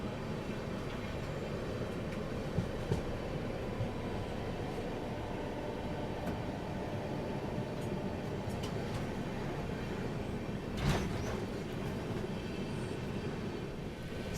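Azimabad Express passing on the opposite track, heard from inside a slow-moving train: a steady, dense rumble of wheels and carriages throughout, with a brief clank near the end.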